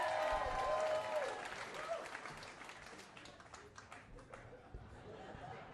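A comedy club audience applauds and cheers as a stand-up comedian is welcomed to the stage, with dense clapping and whoops that thin out into scattered claps and murmur, and a voice heard over the crowd.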